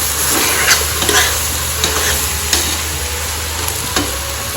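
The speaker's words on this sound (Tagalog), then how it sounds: "Tuloy lang natin yung pag-mix. Gisa lang natin sa konti" Pork sautéing and being stirred in a pan for Filipino dinuguan with bottle squash, a loud steady sizzle with scraping stirs throughout, close up and without voices.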